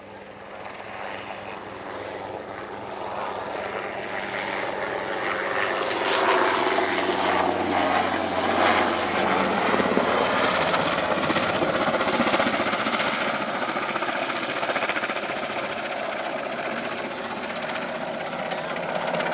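A German Air Force NH90 helicopter performs a flying display at an air show, its rotor and engine roar swelling steadily as it passes fairly close and then holding loud, with a faint announcer's voice underneath.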